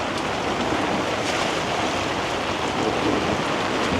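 Heavy rain pours down during a storm on a beach in Da Nang, Vietnam, a steady dense hiss with surf and wind mixed in, loud and constant without any voices.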